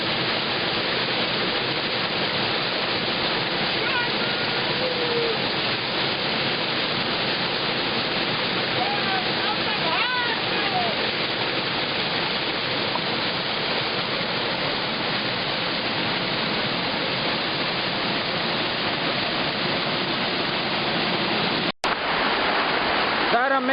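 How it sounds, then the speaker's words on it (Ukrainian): The Chernyk waterfall roars in a loud, continuous rush of falling water, with voices heard faintly now and then. "у підніжжю водоспаду Черник"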